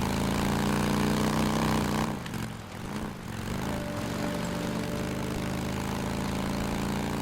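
Engine idling in the video game Days Gone, a steady, droning hum that briefly dips in level midway before settling back to a constant rumble, with no talking.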